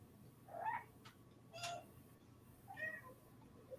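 A cat in a video game lets out three short, faint meows spaced about a second apart over a quiet low hum.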